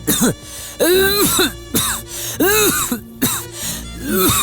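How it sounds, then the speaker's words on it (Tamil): Repeated harsh coughing fits close by, several rasping bursts in quick succession with throat-clearing sounds between them. "இப்படி இருமுற"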